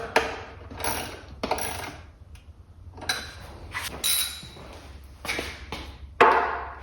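Ratchet wrench clicking in short bursts while bolts on a Honda CB500X luggage rack are snugged down, several quick ratcheting runs with brief pauses, close and clear.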